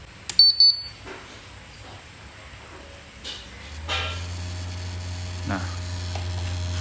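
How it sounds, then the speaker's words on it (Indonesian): A sine-wave inverter's cooling fan, wired in series to 24 volts, switches on partway through and settles into a steady low motor hum, with a few short beeps and clicks before it starts. "Kipasnya nyala, dia ngisap ya"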